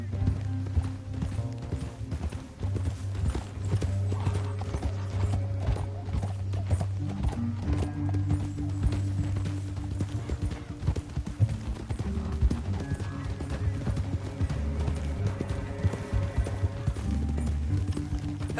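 Horse hooves gallop in Red Dead Redemption 2 in a rapid, continuous clip-clop rhythm for the whole stretch, loud and close, with an occasional whinny and no talking.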